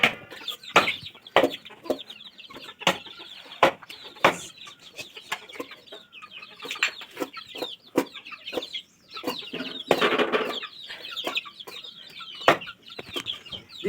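Domestic chickens and a rooster cluck and squawk close by at a home during a household puja, with many short, irregular calls that overlap in a busy, steady stream.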